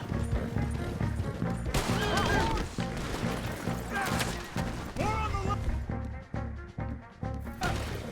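Rhythmic hoofbeats of a galloping horse in the video game Red Dead Redemption 2, mixed with clashing game effects and background music, with a voice talking over parts of it.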